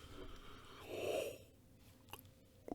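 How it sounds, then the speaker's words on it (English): A person yawning, a breathy drawn-out inhale swelling to a peak and fading, fairly faint and close, followed by a couple of small mouth clicks. "I'm going to yawn"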